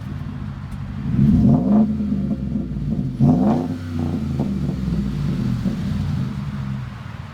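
A 2014 Ford F-150 pickup with a 5.0 V8, 8-inch center dump and Flowmaster Super 10 Outlaw exhaust rumbles loudly up close, rising through two sharp revs before settling into a deep, steady idle.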